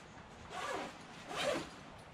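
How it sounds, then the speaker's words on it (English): A zipper on a paraglider harness that converts into a backpack, pulled in two quiet strokes, soft and close with no talking. "And then there's an upper zipper."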